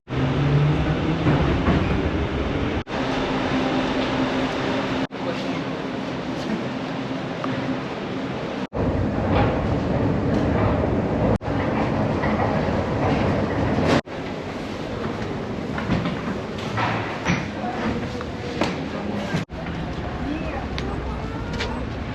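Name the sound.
Nizhny Novgorod metro train ride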